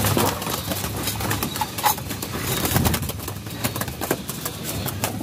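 Pigeons coo and flutter steadily in a busy flock at feeding time, with soft scattered pecking and rustling throughout and no voices.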